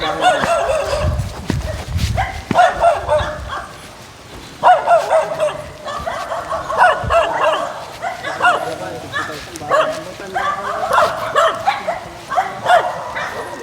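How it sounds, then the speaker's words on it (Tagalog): Several dogs bark and yip repeatedly on a remote mountainside, the barking bursts coming in clusters, moderately close, with people talking over much of it. "Mga aso yun, ngayon lang yata nakakita ng tao dito."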